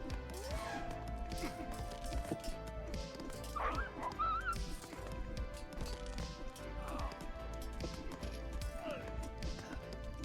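Sacred Dogs units in the Age of Mythology video game barking and yipping amid busy battle clatter, with commentators talking over the fighting.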